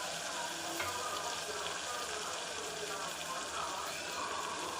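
Tomatoes sautéing in a pan as the base for chicken biryani, giving a steady, even sizzle and hiss that runs without a break at moderate level, with faint background noise and no clear talk.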